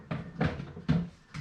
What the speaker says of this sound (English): Open up the can.